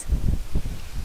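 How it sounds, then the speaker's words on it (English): Gusty outdoor wind buffets the microphone, producing low, rumbling bursts in uneven pulses with no talk. "Oh, it's so windy."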